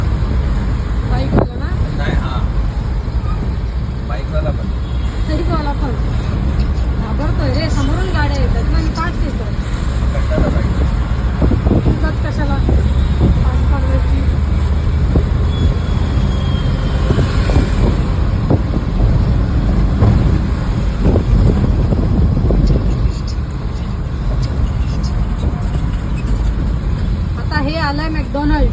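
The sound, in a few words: road traffic noise on Ghodbunder road, Thane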